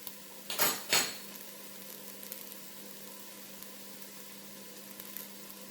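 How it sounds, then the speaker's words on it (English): Garlic drops onto onions frying in a pan, giving two short rustling bursts. A faint, steady sizzle continues underneath and carries on alone. "I'm going to add 1 or 2 tablespoons of garlic."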